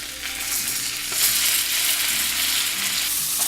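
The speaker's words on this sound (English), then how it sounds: "take the steak, stick it up against the edge of your pan, and let some of that grease do the work for you." Fatty edge of a steak searing against the side of a hot skillet, a steady loud sizzle and crackle of grease throughout, close up and uninterrupted.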